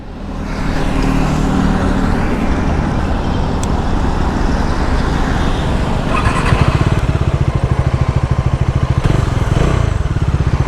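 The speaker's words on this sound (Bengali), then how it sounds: "এক্সস্ট নোটটা কিন্তু দারুণ, বেসি অ্যান্ড বুমি সাউন্ড।" A Bajaj Dominar 400 motorcycle with a 349cc engine rides on the road in poor weather, its bassy, booming exhaust droning loud and steady throughout, with a pulsing throb growing stronger in the last seconds.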